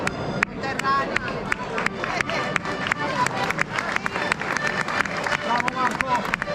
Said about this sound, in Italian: Un applauso ai cittadini conterranei